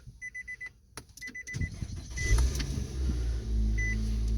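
Several electronic chimes and a click, then a 2018 Nissan Altima SR engine cranks via push-button start and catches, settling into a steady low idle rumble nearby.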